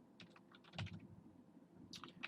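Typing code on a computer keyboard: a faint, close sequence of light key clicks in quick irregular bursts, with a short pause before a final few taps.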